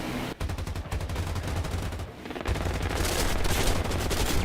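AI gunners on German bombers in War Thunder fire in long, rapid machine-gun bursts. The rattle is dense and continuous, loud and close, and grows heavier toward the end, with no talking.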